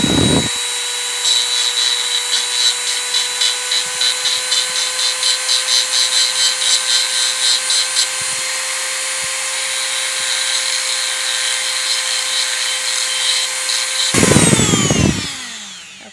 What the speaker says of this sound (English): So grab your Dremel and put in your grinding stone. Put that baby up on high and let's grind that edge.